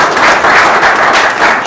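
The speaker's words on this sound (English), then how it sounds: "Please applause the new class because they've shown their consistency." Steady, dense applause from an audience at a student honouring ceremony during a conference, loud and close, with no talk over it.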